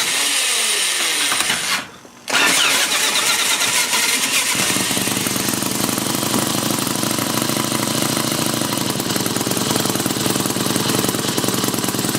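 A Mini Hog 70 minibike engine starts after a brief pause, then runs and idles loud and close with a rapid, continuous buzzing rattle.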